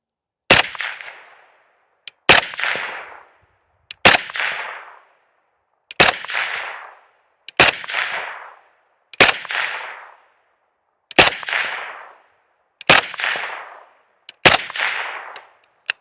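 An AK-style Honey Badger rifle firing Tula steel-cased ammunition from a 45-round magazine outdoors: nine loud, sharp single shots spaced roughly two seconds apart, each followed by a short ringing echo.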